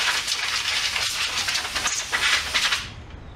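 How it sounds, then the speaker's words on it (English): Compressed air from an air compressor blasts dust off model train shelf parts outdoors, a loud continuous rushing hiss that cuts off abruptly near the end, close and without speech. "Use an air compressor and do it outside."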